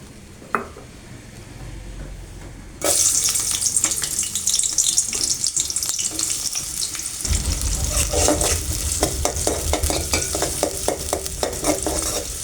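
Two onions go into hot oil in a pan and fry with a loud, continuous sizzle and crackle, with stirring clatter on top and no talk.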